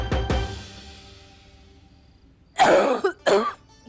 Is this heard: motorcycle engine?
no